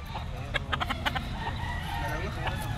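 Chickens and banded roosters brought from Bulacan to the Pasig pet market cluck and squawk in a dense, steady chorus, with sharper calls poking out of constant market chatter.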